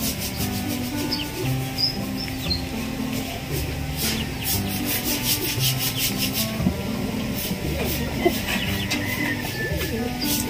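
Racing pigeon breeders in a loft coo softly and steadily under constant rustling and scraping, with a busy, close background and occasional higher chirps throughout.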